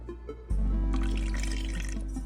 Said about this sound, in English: So I'm gonna add a little bit of apple cider vinegar next.